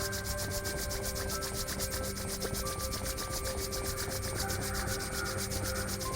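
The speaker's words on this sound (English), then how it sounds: "It is done by rubbing the two palms." Two palms rub briskly together in a rapid, even rhythm, a close, steady swishing friction that continues throughout with no talking.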